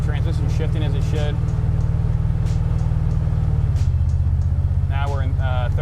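An AMC Javelin with an automatic transmission cruises along with a steady low engine drone; partway through, the pitch drops as the gearbox shifts up. Someone talks over the engine at the start and again near the end.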